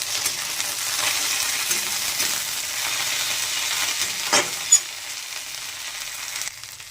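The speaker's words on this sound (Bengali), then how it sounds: "এবার নেড়ে নেব" Coriander leaves frying in a pan with chopped onion, garlic and chilies, a steady hiss with a few scraping stirs of the spatula partway through.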